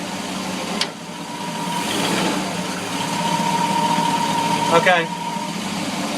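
Boat engine running in gear under light throttle, with noise from the stuffing box heard up close; a steady mid-pitched engine drone with a brief rattle near the end, and a voice speaks briefly.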